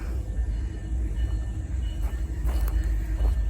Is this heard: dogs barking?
no